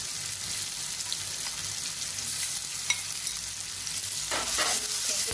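Mushroom prawn curry with tomatoes sizzles and fries steadily in a pan, with scraping stir strokes throughout, close and fairly loud, no voices.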